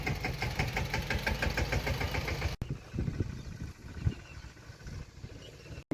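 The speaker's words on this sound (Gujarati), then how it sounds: "આમ ચાલુ ટ્રેક્ટર બતાવી શકતો" A running farm tractor engine gives a steady, rhythmic chugging idle that stays loud and continuous. It cuts off abruptly, then returns as a quieter, rougher running sound nearby.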